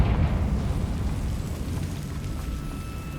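A Confringo blasting spell bursts in Hogwarts Legacy with a loud booming explosion that opens with a heavy blast and settles into a long, dense rumble that slowly fades over a few seconds.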